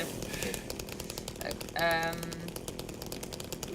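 A chainsaw from the horror game Silent Hill 2 revs in a brief, loud burst mid-clip, standing out over a busy layer of clanking, mechanical game noise and music throughout.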